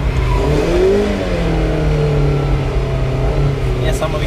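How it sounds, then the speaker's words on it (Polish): Mazda car engine revving steadily while doing donuts, a loud continuous drone with rising and falling pitch, heard close up from inside the car with people talking over it. "Bączki. No to kręcimy. Zobacz, co ten samochód potrafi robić."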